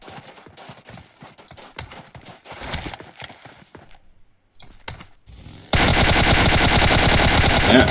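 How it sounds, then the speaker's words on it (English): Rapid gunfire in a Riot Trios battle royale match bursts out loud and continuous in the final seconds, after scattered clicks, thumps and footsteps, with no talk over it. "Venom getting some rounds at the guys from 7 Atoms, just trying to rotate in."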